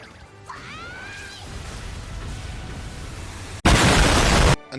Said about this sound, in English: with that explosion, I killed all of her Pokemon